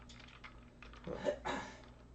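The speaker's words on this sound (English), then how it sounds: "Can you not step on my keyboard?" A cat treads across a computer keyboard, giving a run of soft, irregular key clacks and presses with a slightly louder cluster near the end, close by in a quiet room.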